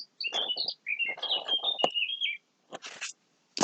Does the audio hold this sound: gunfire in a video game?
no